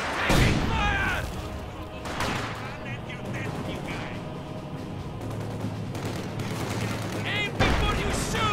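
Dense battlefield gunfire in the World War II strategy game Company of Heroes 2 rattles on in rapid volleys and heavy bursts, with booms and crashes and shouting soldiers mixed in.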